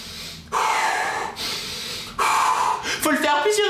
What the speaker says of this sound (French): on va faire des petits exercices de respiration